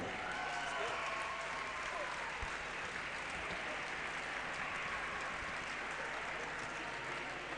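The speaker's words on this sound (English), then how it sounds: "put your hands together for New South Wales and Victoria" Sustained applause fills an indoor cricket venue at a national under-17 girls' grand final, steady clapping from a crowd that carries on evenly without a break.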